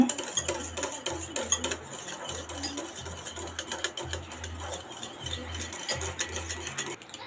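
Curd being whisked in a bowl until smooth, a steady run of rapid scraping and tapping strokes against the bowl, fairly close and continuous with a brief pause or two, no talking over it.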